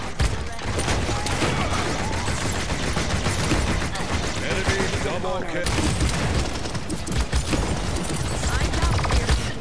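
Rapid, continuous gunfire from the champion Lian in the game Paladins, loud and dense bursts of shots filling the whole stretch, with a voice talking over them.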